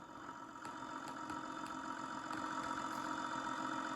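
A new tractor engine idles in a farming video game, a steady mid-pitched rumble with faint regular knocking ticks, close and unchanging with no talk.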